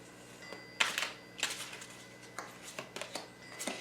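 Large oracle cards are shuffled by hand in a few quiet, irregular riffles and soft slaps close to the microphone, with no voices.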